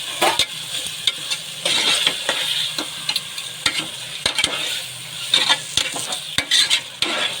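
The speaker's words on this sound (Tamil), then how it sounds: "சிக்கன் போட்டு நல்லா வதக்குங்க." Chicken sautéing with onion and tomato for a chicken dum biryani, sizzling steadily in the pan while a spoon stirs and scrapes in repeated sharp strokes, close and moderately loud with no talking.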